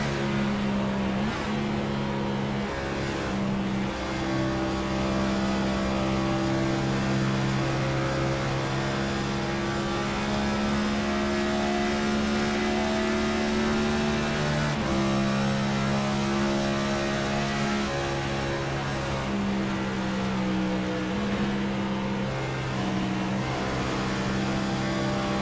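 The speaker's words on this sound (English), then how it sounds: "You hear Blaney playing with the throttle quite a bit there, just trying to get that car to rotate." Race car engine in a racing video game, steady droning whine with the throttle repeatedly lifted and reapplied as the car is coaxed to rotate, loud and continuous with brief dips in pitch.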